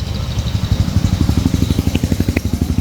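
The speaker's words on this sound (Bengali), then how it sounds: "দেখেন বাইকের সাউন্ড খুবই সুন্দর আছে বাইকের সাউন্ড কোয়ালিটি ঠিক আছে দেখেন" A Yamaha FZS version 2 motorcycle engine runs close by, its loud, even exhaust pulsing in a quick steady rhythm that tightens slightly as it goes, with a couple of faint metallic ticks on top.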